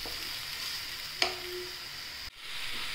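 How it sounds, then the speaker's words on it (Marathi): Chopped onion and green chili sizzle steadily in a hot pan, a soft continuous frying hiss with a brief clink of a utensil and a short stir partway through. "हिरवी मिरची टाकूया आणि हे आपण चांगलं परतून घेऊया"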